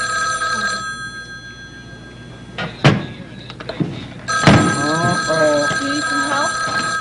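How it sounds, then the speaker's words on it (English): An old-fashioned telephone bell rings in a Spider-Man television cartoon, with loud repeated bell bursts and clatter, followed by a voice talking over a steady tonal background. "Now the ringing sound you hear is your signal to pick up the receiver."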